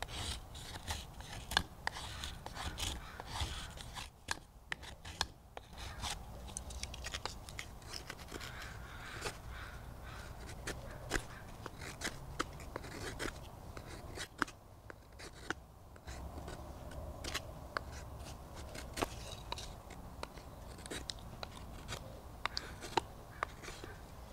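Small wood shavings are carved off by hand for campfire tinder, giving close, quiet scraping and rasping strokes that repeat irregularly throughout with no voices.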